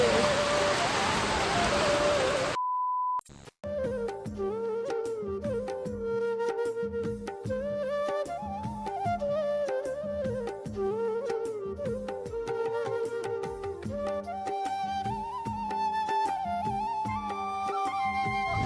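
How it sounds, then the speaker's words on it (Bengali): Heavy rain pours in a close, loud rush of noise for a couple of seconds, then cuts out abruptly and music plays for the rest. "আর ঝমঝম করে বৃষ্টি নেমে পড়েছে"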